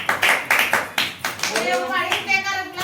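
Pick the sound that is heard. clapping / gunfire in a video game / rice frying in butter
clapping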